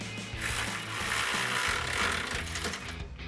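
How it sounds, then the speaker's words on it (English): A ratchet with a 16mm socket clicks steadily as it tightens grille guard bolts onto the frame of a 2019-2024 RAM 1500 pickup, close up and alone in a quiet setting. "Now you can tighten this down with our 16mm socket and our 16mm wrench."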